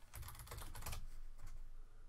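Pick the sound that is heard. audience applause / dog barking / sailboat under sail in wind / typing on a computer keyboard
typing on a computer keyboard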